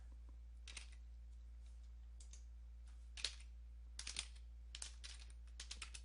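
Keys tapped on an HP laptop keyboard while entering command-prompt commands during a repair-loop fix. Scattered single clicks and short clusters of keystrokes sound close and crisp over a steady low hum, with no talking.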